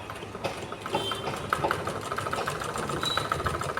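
A sewing machine stitching the seat part of a churidar top, running with a steady rapid mechanical whir and rattle, moderately close, with faint room sounds around it.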